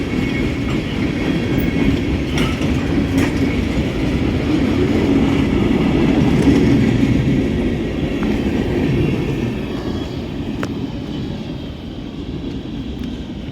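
A train rumbles steadily past nearby on the main line, a dense low roar with faint rhythmic clacking that swells midway and eases slightly toward the end.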